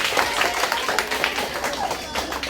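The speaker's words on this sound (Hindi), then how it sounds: "इस जोरदार ताली हो रही है" An audience at a school quiz competition claps together in a steady, dense patter of applause. It sounds fairly close and continuous throughout, with a voice faintly mixed in.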